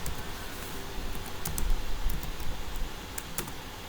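Code is typed on a computer keyboard up close, with sparse, irregular key clicks over a steady low background hum and no speech.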